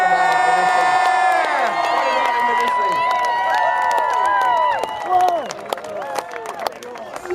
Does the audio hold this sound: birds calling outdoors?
no